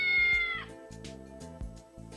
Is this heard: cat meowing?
yes